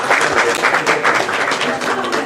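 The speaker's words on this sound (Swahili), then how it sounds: "Makofi tafadhali." A crowd at a party office ceremony claps continuously, a close and fairly loud patter of applause that comes in slight swells.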